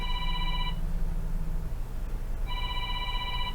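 A telephone rings in two bursts of electronic trilling, separated by a pause of well over a second, sounding fairly close over a steady background hum with no talking.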